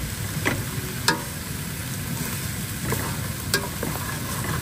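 Piyaju, lentil fritters, frying in a pan: steady close oil sizzle throughout, broken by a few sharp clicks and scrapes of stirring.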